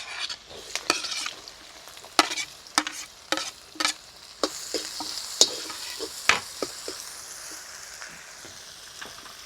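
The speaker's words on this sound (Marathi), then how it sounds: "कांदा आपल्याला सोनेरी रंग येईपर्यंत परतून घ्यायचा आहे" Onion and ginger sauté in a pan with repeated quick scraping and clinking strokes of a spoon over a soft sizzle, close and without voices.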